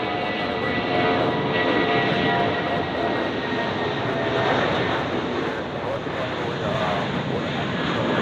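A jet airliner, an Airbus, departs Tampa International Airport, its engine roar loud, broad and steady for the whole stretch, with no talking heard.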